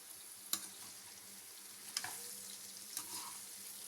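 Kashmiri red chilli powder sautéed in oil for a stuffed ridge gourd bharit makes a faint, soft sizzle, broken by a few sharp scraping stirs at irregular moments.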